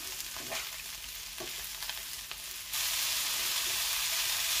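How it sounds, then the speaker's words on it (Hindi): Cabbage frying in a pan with salt, a steady broadband sizzle that jumps louder and denser about halfway through, with a few soft stirring scrapes early on and no voices. "कैबेज को भी अच्छी तरह से फ्राई करेंगे"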